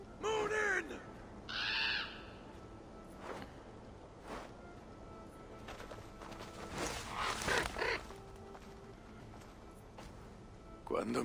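Ravens in Assassin's Creed Valhalla giving a few harsh caws, one at the start and another near two seconds, with someone talking in between over low game ambience.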